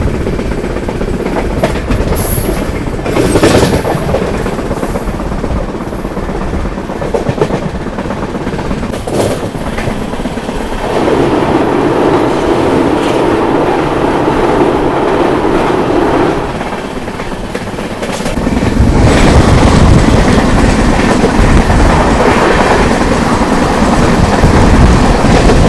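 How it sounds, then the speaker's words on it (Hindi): An Amrit Bharat Express train runs along the tracks toward Kollam Junction in Kerala, a steady loud rumble and rattle of the carriages throughout, swelling louder and rougher near the end. "हमारी ट्रेन पहुंचने वाली है कोल्लम जंक्शन"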